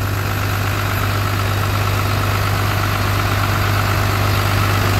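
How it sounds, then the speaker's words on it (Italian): Auxiliary engine on a 2002 Astra HD7/C 84.40 four-axle concrete mixer truck with a COIME drum idles steadily, a loud constant low hum with a strong droning tone and even vibration, alone and unchanging throughout. "Qua il motore ausiliario che sta girando."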